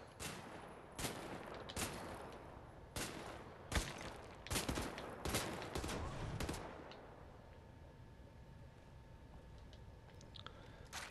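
Gunfire in the shooter game Wolfenstein: The New Order, a string of sharp, loud bursts spaced irregularly over several seconds, then trailing into a quieter stretch of game ambience.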